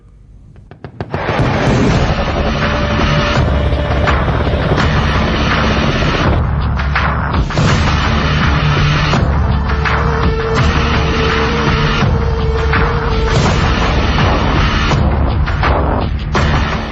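Army war-exercise explosions and heavy firing at the Mahajan field firing range in Bikaner roar continuously and loudly, a dense wall of blasts and rumble that holds for the whole stretch.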